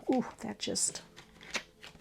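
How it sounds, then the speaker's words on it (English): Oracle cards being shuffled by hand give a few quick papery riffling bursts, close and soft, mixed with a woman's spoken exclamations. "these cards are sometimes hard to shuffle."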